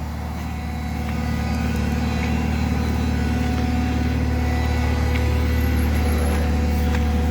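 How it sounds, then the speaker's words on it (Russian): A Toyota 6FG15 forklift engine idles steadily, a low, even mechanical drone with a constant hum that rises slightly after the first second and then holds, with no talk. "давайте с вами посмотрим на работу двигателя"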